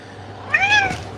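A house cat gives a single clear meow, close by, over a quiet indoor background hum.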